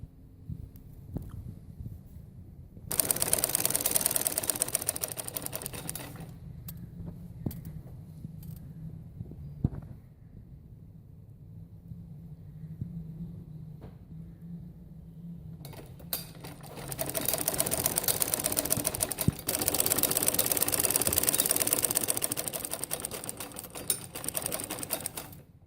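Sewing machine stitching the pleated cuff of a shalwar, with two long, loud bursts of rapid steady needle chatter separated by quieter pauses filled with soft handling noises.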